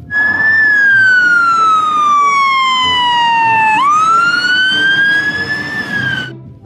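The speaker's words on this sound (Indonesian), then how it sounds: "Pemadam kebakaran." A loud toy fire truck siren with a slow electronic wail that sweeps down, jumps back up and glides down again, with quiet background noise.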